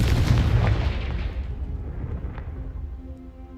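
A spell blast from a Hogwarts wizarding game lands as a deep, rumbling boom that fades slowly into a low tail, loud at first and then settling.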